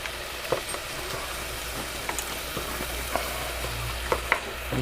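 Taco shell frying in oil in a shallow, short-walled frying pan, a steady close sizzle with scattered pops and crackles throughout, no talking.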